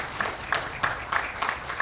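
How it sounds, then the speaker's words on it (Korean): Light audience clapping at an academic conference in a lecture hall, soft and somewhat distant, with a few sharper claps standing out at an irregular pace. "우리 박수 한번 보내주시는 거 하겠습니다."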